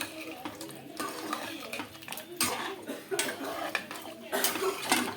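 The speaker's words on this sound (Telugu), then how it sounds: "కలిపేసేసుకుందామండి" A spoon scrapes and clanks against a pressure cooker pot as a goat head curry is stirred, with repeated metallic knocks and a liquid slosh in an uneven rhythm, close and clear.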